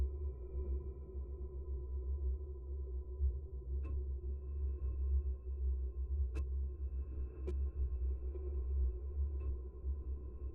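Immersive cinematic drone synth pad sustaining steadily for the whole stretch, a dense low rumble under a continuous hum with a few faint high pings scattered through it, at a constant even level and with no voices.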